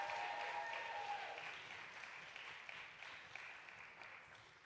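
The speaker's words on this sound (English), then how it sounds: "Give another round of applause for that beautiful story." Audience clapping after a told story, a dense steady applause that slowly thins out, heard at a moderate distance with no talking.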